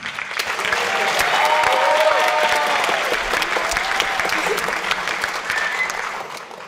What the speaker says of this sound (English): let's give another round of applause to our soloist, Maya.